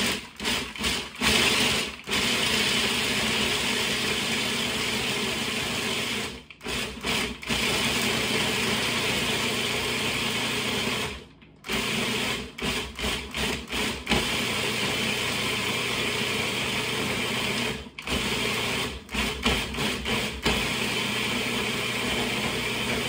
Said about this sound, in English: I'm just gonna pulse these until it forms a nice crust